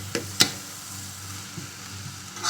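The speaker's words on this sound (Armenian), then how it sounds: "Այսպես մի թեթև խառնում եմ։" Boiled basmati rice stirred in hot oil in a pot gives a faint, steady sizzle broken by a couple of soft scraping stirs near the start, with a brief clatter at the end.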